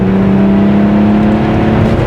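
A stage 2 BMW 535d E60 LCI with the M57 diesel engine accelerating hard, a loud, steady, close-up drone of engine and road noise throughout the short burst.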